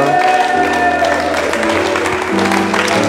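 A church congregation applauds and acclaims the Lord, steady dense clapping and voices filling the room for the whole span, loud and close with a sustained tonal hum underneath.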